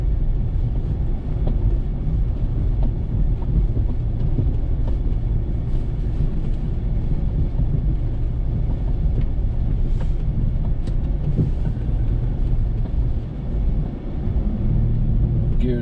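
Car with an automatic transmission in first gear descending a snowy mountain road in North Carolina, engine braking, a steady low engine drone and road rumble heard from inside the cabin, continuous and fairly loud.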